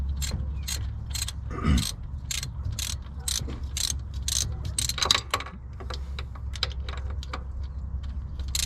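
Wrench ratcheting on a Corvette C7 belt tensioner during replacement, heard as a steady run of close, dry clicks in quick bursts over a low engine-bay hum, with a brief knock partway through.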